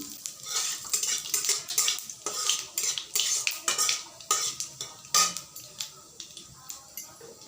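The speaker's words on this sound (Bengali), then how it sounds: "তেল গরম হয়ে গেলে আমি প্রথমে একটু কালো জিরে দিয়ে দিব।" Nigella seeds, black cumin, hit hot oil in a pan for a pumpkin fry and are stirred, giving a steady hiss with repeated close spoon-on-pan scrapes and clinks and no talking.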